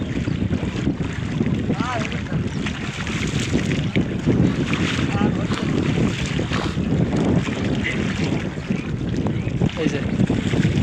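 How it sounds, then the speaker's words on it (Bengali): Steady wind buffeting the microphone on a riverbank where cattle are being bathed, a continuous loud rushing roar with faint water movement and scattered voices underneath. "বাতাস কত সুন্দর ঠান্ডা বাতাস"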